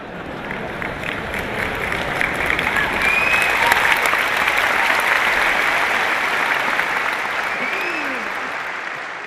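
An audience at a talk claps at length, a thick, even roar of many hands that swells in the middle and tapers slightly, with faint voices mixed in underneath.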